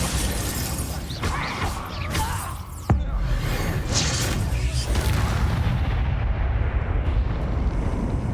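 Bombarda spell blast in Hogwarts Legacy: a loud boom with crackling debris, then sustained rumbling combat noise as a voice calls out over the action.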